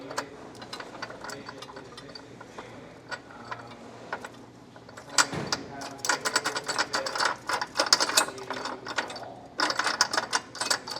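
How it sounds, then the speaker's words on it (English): Metal hardware is tightened with a ratchet while a class III trailer hitch goes onto a 2025 Subaru Crosstrek: quiet clicking at first, then faster, louder rapid ratchet clicks in bursts through the second half. "Now I'm just going to hand tighten these two"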